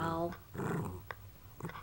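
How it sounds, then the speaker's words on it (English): A dog in heel-work training growls on command, a low rumbling growl following a person's voice, with further short vocal bursts near the end of the brief clip. "Can you growl? Growl. Growl."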